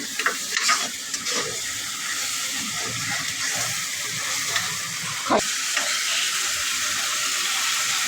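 Mutton spice paste frying in a pan, a steady close sizzle and hiss with occasional stirring scrapes and a few sharper crackles, continuous throughout with no talking.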